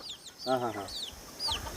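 Country chickens at a fowl farm in Bhimavaram give a few short clucks and calls, with a brief harmonic squawk near the middle and a sharper call toward the end, over low background noise.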